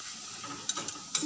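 Veg cabbage manchurian balls frying in hot oil give off a steady close sizzle, with a few brief sharp clinks and scrapes near the end as they are lifted out.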